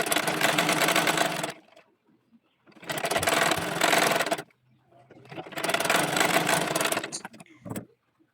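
A sewing machine stitching fabric for a baby dress runs in three loud, steady bursts of about one and a half seconds each, separated by quiet pauses with faint handling sounds.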